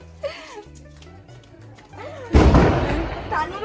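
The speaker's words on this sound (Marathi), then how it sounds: "त्यांच्या खुशीमध्ये सुरू आहेत आमचे फटाके फोडणं" People talk briefly, then a firecracker bursts with a loud, sharp blast that leaves a rumbling crackle trailing off.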